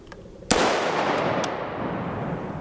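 A 6.5 Grendel rifle fires a single round of Prvi Partizan 120gr BTHP ammunition, a sharp, loud report followed by a long, broad outdoor rumble and a faint metallic clink.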